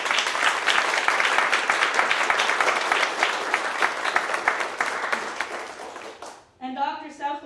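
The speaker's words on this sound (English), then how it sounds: "That does deserve a round of applause." Audience applause at a university convocation welcoming a new chancellor, a dense steady wash of many hands clapping for about six seconds before cutting off, followed by a voice speaking.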